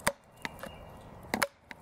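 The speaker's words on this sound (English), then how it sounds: "This thing really is just a hammer when it comes to chopping." An Ontario Spec-Plus Gen II SP51 knife chops hard into wood. Several heavy, sharp impacts land irregularly, two close together near the end, loud and close with no talking.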